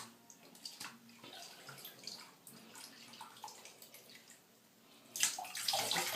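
Water splashes and drips while hair extensions, a Brazilian body wave bundle, are rinsed, with uneven trickling that swells into a louder rush near the end.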